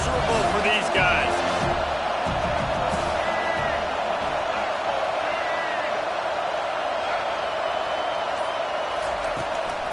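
A stadium crowd roars at a USC football game, a dense, continuous wash of noise that stays loud throughout, with a few sharper shouts and impacts early on.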